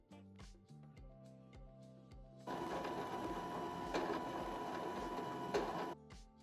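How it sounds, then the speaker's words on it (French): A domestic sewing machine stitches small holding stitches on a Burda skirt: a few short, separate bursts of the needle mechanism, then one sustained fast whirring run of about four seconds, close and fairly loud, with no talk. "Je vais faire des petits points de maintien à la machine à certains endroits, à peu près tous les 5-7 cm."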